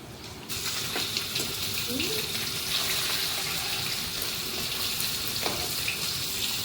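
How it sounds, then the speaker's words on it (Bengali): Water is poured into a wok to steam hilsa fish. A steady, close splashing pour starts after a brief pause and continues without break, with no talking. "আমি কড়াইতে জল দিলাম আর রিংটা বসিয়ে দিলাম"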